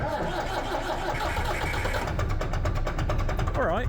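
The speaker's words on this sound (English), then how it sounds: "So I'm just going to start the tractor now" Massey Ferguson 165 diesel tractor engine running steadily up close, a continuous loud rumbling chug with a rhythmic knock that sharpens midway, followed by a brief higher whine at the end.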